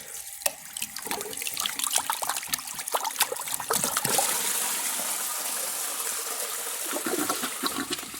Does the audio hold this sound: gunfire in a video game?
no